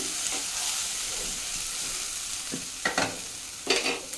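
Ground paste of three onions sizzles steadily in a pan for a chole paneer curry. The frying hiss stays close and constant, and a few spoon scrapes and clacks mark the stirring toward the end.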